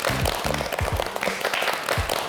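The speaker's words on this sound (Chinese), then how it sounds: "让我们掌声有请 JoJo 唐九洲" Audience applause greets JoJo Tang Jiuzhou as he is called onstage at a finance-themed workplace salon, a steady dense wash of many hands clapping throughout, fairly loud and close.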